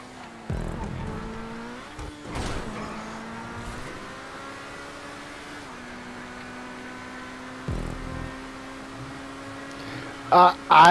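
Race cars roar through a GTA 5 video game race with a steady, sustained engine drone, a few louder surges and revs, and sharp bursts near the end.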